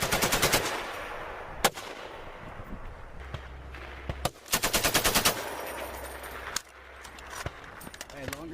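Machine gun fired on a training range in rapid bursts, loud close rattling volleys separated by single sharp shots and pauses, with voices talking between bursts.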